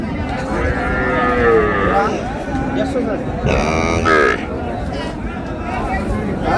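A cow with her calf at the Raniganj cattle market, mooing loudly and close by in two long, drawn-out calls over a background of crowd babble and people talking.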